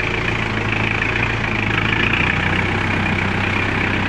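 A farm tractor's engine idles steadily on a clean paved rural road on the way to spray a rice field, a continuous low rumble with a constant drone and vibration throughout, fairly loud and close, no talk.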